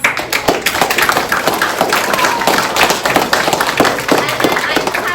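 Audience at a children's piano recital clapping for the parents, a dense, loud burst of close handclaps that keeps going.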